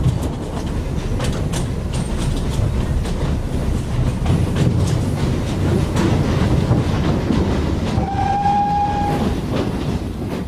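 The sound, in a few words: train clattering out of Le Havre station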